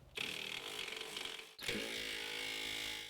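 A power ratchet running on a 13mm bolt holding a plate under a Ford F150, buzzing steadily for over a second, pausing briefly, then spinning again on the second bolt; fairly quiet and close.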